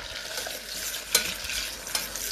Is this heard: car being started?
no